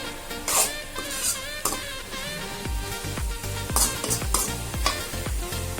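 Elephant foot yam with masala and curry leaves sizzles and is stirred in a pan over a low flame, with steady frying crackle and repeated scraping strokes of a spoon; background music plays throughout.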